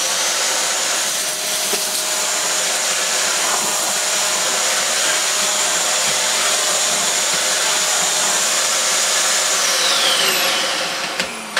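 A Dyson DC54 Cinetic vacuum cleaner running on its normal setting, a loud, steady, high whining roar that holds evenly throughout with no speech.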